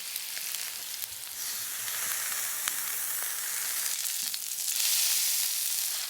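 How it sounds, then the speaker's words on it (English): Venison loins sizzle steadily in a hot frying pan, a dense crackling hiss with small pops, close and continuous with no talking. "Look at that, sizzling and golden."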